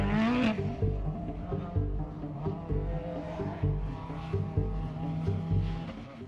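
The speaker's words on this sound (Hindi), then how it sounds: "जब कार पास आती है तो उसके इंजन की आवाज बढ़ती है।" A noisy car engine hums and drones along a straight road, its tone shifting as if the car approaches and passes, with a brief squeal at the start and a steady rumbling texture throughout.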